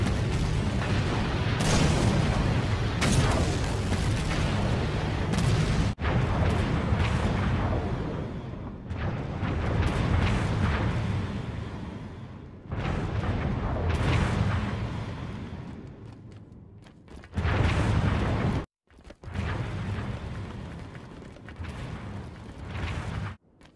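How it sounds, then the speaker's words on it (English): Sustained roaring blasts and booming explosions in a video game rumble continuously, with brief breaks between bursts, loud and dense like heavy battle effects. "Aren't we supposed to run away from explosions?"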